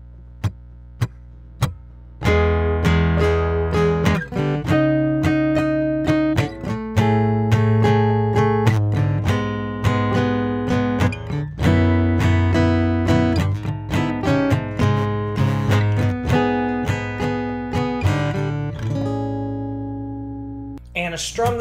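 A guitar riff from a song is played alone, close and loud: a steady run of picked notes and chords lasting about twenty seconds without talk.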